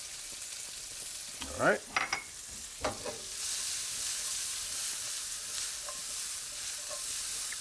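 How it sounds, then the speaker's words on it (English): Shallots sizzle in olive oil in a pan for Asiago shiitake chicken, a steady hissing fry that swells louder partway through, with someone speaking briefly early on and a few clinks over it. "that aroma just exploded out of the pan as soon as I put these shallots in here"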